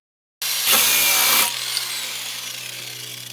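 A power tool starts abruptly and cuts into a metal bar on a Subaru WRX, a bright harsh grinding burst for about a second settling into a steady whining hum as it bites through.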